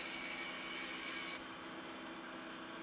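A small spindle gouge cuts a pen blank of wood spinning on a lathe, giving a steady, close, hissing scrape that drops to a softer, lighter rasp partway through.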